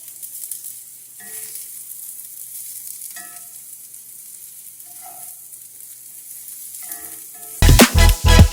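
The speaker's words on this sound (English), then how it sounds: "they've been sizzling, sauteing for a little bit" Vegetables for a frittata sauté quietly in a pan with a soft, steady sizzle and a few faint clicks, then several loud thumping knocks close by at the end.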